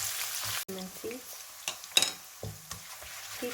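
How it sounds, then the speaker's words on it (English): Half a sliced onion frying in oil in a pan, with a steady sizzle broken by stirring scrapes and clinks of a utensil against the pan. "Take some oil in a pan. Add half sliced onion. Fry this until translucent."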